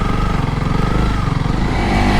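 A BMW 310 road motorcycle on a dirt track, its engine droning with a steady pulsing beat that swells slightly toward the end, close and fairly loud.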